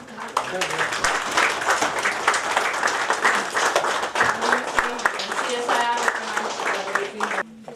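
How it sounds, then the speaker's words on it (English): Sustained applause from an audience at a signing ceremony fills the room, dense and even, with a few voices mixed in beneath the clapping. "Yeah, the claps."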